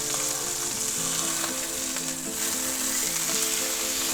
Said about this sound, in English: we're going to sear that on both sides for about a minute each side